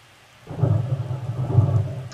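A Thunder 04 sound effect cue plays back as a deep, loud rolling rumble that starts abruptly after a short silence and keeps going, with a rain-like wash on top.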